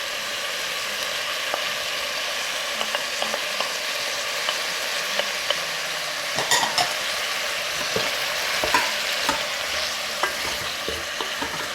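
Frozen mixed vegetables fry in a pan for vegetable biryani, a steady bright sizzle broken by clattering scrapes and clicks of stirring that grow busier midway, close and alone.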